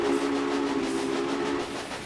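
A steam train whistle in the video game Railway Empire sounds as one long, steady, loud tone with a slight fade near the end, heard alone over quiet background noise.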